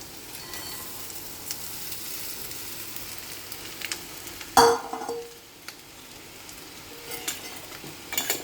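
A sabudana (tapioca pearl) khichdi mixture is tipped into a pan and stirred, with a steady frying sizzle, one loud clank of a utensil midway, and quieter scraping afterward.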